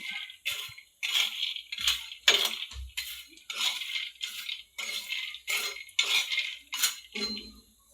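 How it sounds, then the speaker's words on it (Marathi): Peanuts being dry-roasted in a pan for chutney, a steady rattling clatter of nuts and a stirring spoon against the metal, close and continuous with brief pauses, no talking. "मस्त भाजायची बघा शेंगदाणे असे बघा"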